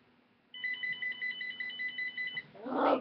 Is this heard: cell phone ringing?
yes